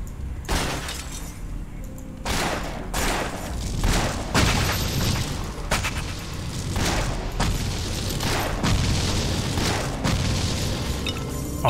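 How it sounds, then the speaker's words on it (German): Explosion shot skill firing in the action RPG Torchlight, a run of loud booming blasts and shattering bursts at irregular intervals, several in quick succession. "Ich mag diesen Explosionsschuss, merkt man direkt."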